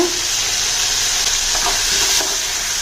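Shallots sautéing in hot oil for a thin chutney, producing a loud, continuous sizzle with a few soft stirring scrapes.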